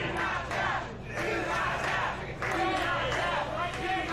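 A crowd at a professional wrestling show shouts encouragement in rising, repeated bursts of massed voices, loud and close, swelling and dipping in waves over several seconds.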